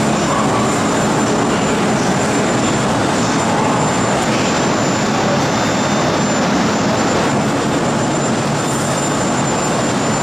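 Steady loud roar of a new Ukrainian electric metro train in the Kharkiv metro, a sustained broadband motor and rail rumble with a faint high whine running through, heard alone without talk.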